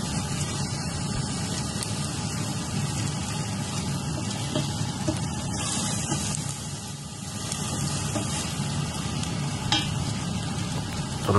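Watermelon peels sautéing in butter in a pan, a continuous dense sizzle with rustling stirring throughout, close and even in loudness, with no talking.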